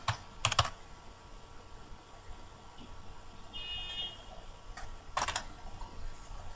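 Keys clatter on a computer keyboard in a few quick bursts of typing, faint and close, separated by quiet stretches.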